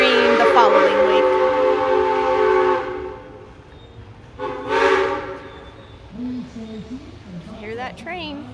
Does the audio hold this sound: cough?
no